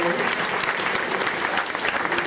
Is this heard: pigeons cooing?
no